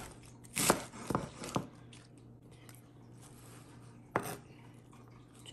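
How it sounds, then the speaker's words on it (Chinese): Cabbage for pork dumpling filling chopped by hand with a knife on a board: a few sharp, close chops in a quick cluster, a pause, then one more chop, with no talk. "如果咧你話咁少就自己切啦，咁就呢個咁樣咧切碎佢得嘅"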